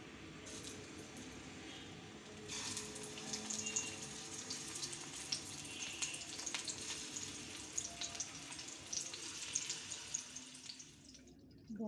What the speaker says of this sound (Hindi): 6 चमचे हमने ऑयल लिया है, इसमें हम टिंडे फ्राई करेंगे।